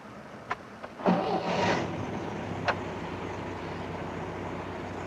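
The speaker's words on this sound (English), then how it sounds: "have an assistant start the booster car's engine" A booster car's engine cranks and catches during a jump-start, preceded by a few faint clicks; the start comes as a brief, fairly quiet burst that settles into a low, steady running hum.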